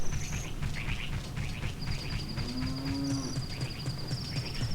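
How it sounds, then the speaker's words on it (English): A cow in The Legend of Zelda: Ocarina of Time gives a clear, drawn-out moo, with bird chirps and background game music around it and no voices. "if you see a cow on the screen"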